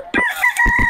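A Sweater Hatch gamefowl rooster, a hatch mix, crows once at a market. The crow is short, loud and close, with a sharp start and a sustained high call, and no voices are heard.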